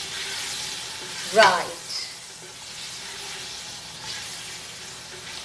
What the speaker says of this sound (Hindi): फटाफट अपना मटन डालेंगे, गुड, और इसको अब हम स्टेयर करेंगे।